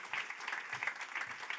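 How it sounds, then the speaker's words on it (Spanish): Brief burst of steady applause from a conference audience for the speakers, many hands clapping at once with no voices. "un aplauso para nuestros ponentes"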